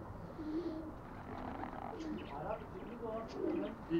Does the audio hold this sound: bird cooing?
yes